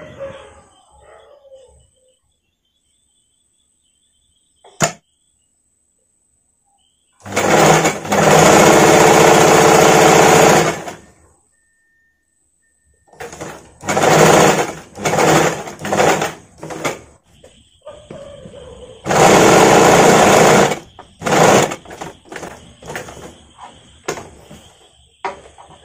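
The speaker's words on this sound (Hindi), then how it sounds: "बिना नेक पुट्टी से हम यहाँ से सिलाई करूंगे" Sewing machine stitching a blouse neck in several bursts of steady, loud mechanical whirring, separated by quiet pauses with faint handling sounds.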